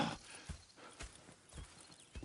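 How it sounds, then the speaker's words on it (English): Horse hooves clip-clopping in an open-world western video game: soft, distant hoofbeats in a slow, regular walking rhythm, faint under quiet ambient noise. "Go check the horses are ready"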